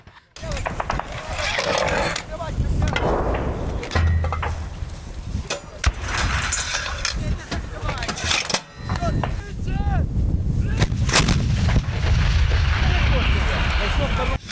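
A field artillery battery fires shells at a single target during reservist training, with loud booming blasts and rumbling echoes scattered through a continuous noisy outdoor scene while someone narrates over it.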